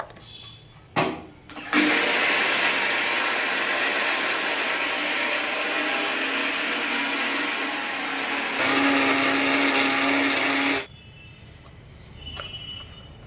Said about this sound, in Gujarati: અને મિક્સરમાં દળી નાખશું.